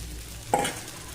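A spoon stirs soaked poha, coriander and peanuts into onions frying in a pan for kanda pohe, giving one short scrape over a faint low sizzle.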